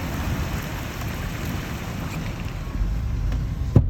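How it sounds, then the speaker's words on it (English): Heavy rain pours steadily outdoors in a dense, even hiss with a low rumble beneath, growing slightly louder toward the end, with one brief knock near the close. "and boom, it starts to rain."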